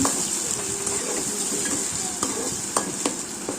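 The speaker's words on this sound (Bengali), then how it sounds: "লবণ দিয়ে দিলাম, দিয়ে একটু নাড়াচাড়া করতেছি" Tomatoes and salt are stirred in a hot frying pan: steady close sizzling runs under sharp utensil scrapes and taps that come at irregular moments.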